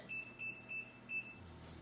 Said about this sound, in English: I'm gonna set my timer for 90 minutes